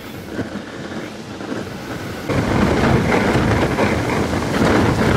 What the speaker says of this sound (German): Das ist richtig heftig hier, was wir hier am Wind haben.